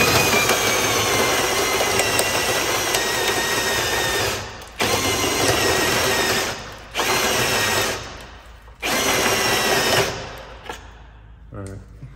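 A cordless power drill with a weakening battery whirs loudly in three long bursts separated by short pauses, then winds down near the end.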